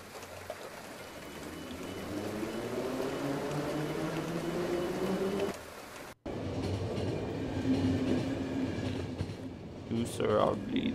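A train rides along in the video game The Final Station, with a steady rumbling rail drone and rhythmic clatter, briefly cut off mid-way, then resuming with mechanical clanks and a sharp high squeal near the end.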